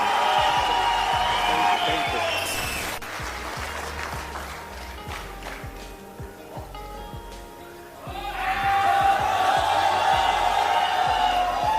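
An audience at a business gathering applauds loudly in a dense burst of clapping, which fades into quieter, scattered sounds with a voice before the crowd erupts into loud applause again.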